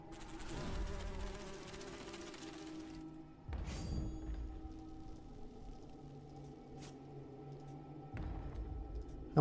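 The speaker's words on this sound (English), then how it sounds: "Bumblebee." A bumblebee in the fantasy card game Hex: Shards of Fate gives off a low, steady buzzing drone with a few brief louder swells and clicks, with no one talking.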